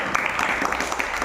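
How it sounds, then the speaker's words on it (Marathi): Schoolchildren in a village classroom clap together in a short, dense burst of steady applause, close and lively, with no pause between the hand claps. "टाळ्या वाजवा सर्वांनी"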